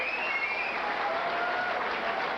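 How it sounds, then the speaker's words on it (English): Steady, loud applause from a boxing arena crowd for both fighters at the end of the bout, continuous dense clapping with little variation. "A well-deserved round of applause for both fighters."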